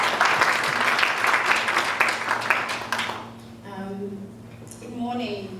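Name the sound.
audience applause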